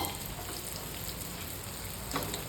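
Cut potato pieces fry in hot oil with turmeric, giving a steady, close sizzle and dense crackle that holds evenly throughout without any talking.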